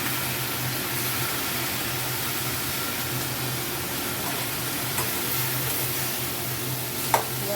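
Washed jute leaves fry with onion, garlic and dried chillies in a pan, giving a constant, even hiss of sizzling oil with a single faint knock near the end.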